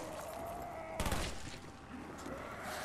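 Gunfire in Black Ops 1 zombies mode, a burst of shots around the one-second mark rising out of a steady busy game backdrop, loud and close, with the fight continuing at lower level afterward.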